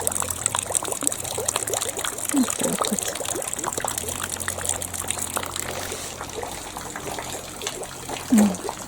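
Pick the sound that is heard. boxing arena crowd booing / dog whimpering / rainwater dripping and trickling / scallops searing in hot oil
rainwater dripping and trickling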